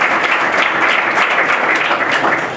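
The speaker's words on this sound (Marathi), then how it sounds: "त्या तिघांना एकदा जोरदार टाळ्या वाजवा" Loud, steady audience applause fills an academy's third anniversary event in Satara, a dense even wash of clapping from a large crowd with no speech over it.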